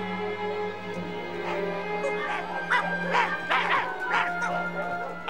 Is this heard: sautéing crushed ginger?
no